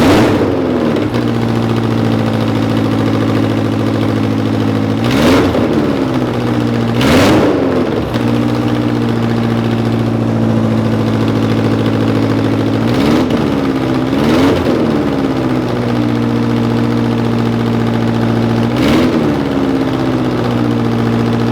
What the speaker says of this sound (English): we're going to fire it up and see what it sounds like.